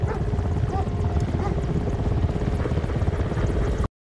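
Helicopter near a research facility at Kola Superdeep in Murmansk in the 2020 film Superdeep, a loud steady rotor chop and engine roar, close and continuous before cutting off abruptly at the end.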